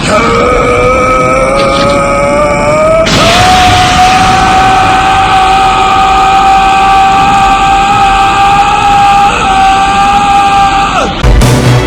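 Gohan from the anime screaming as he powers up and unleashes hidden power, a loud sustained strained yell held for about eleven seconds over a dense roaring energy rumble, cutting off abruptly at the end.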